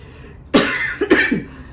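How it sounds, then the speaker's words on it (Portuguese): A person coughs twice in quick succession at close range, two sharp harsh bursts with a brief gap, loud against a quiet room. "depois corta essa tossida aí"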